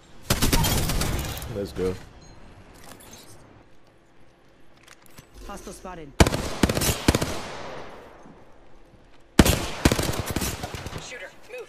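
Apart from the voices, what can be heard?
gunshots in the video game Apex Legends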